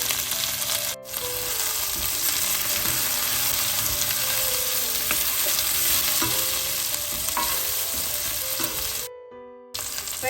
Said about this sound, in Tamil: இந்த கறிமிளகாய் வதங்கி கொண்டு வரைக்கு இந்த உருளைக்கிழங்கை சேர்ப்போம்.